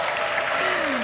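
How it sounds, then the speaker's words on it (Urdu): A Ramadan television show studio audience breaks into loud, dense applause with steady clapping from many hands throughout, while a voice briefly speaks underneath. "ایک بار پھر تالیاں"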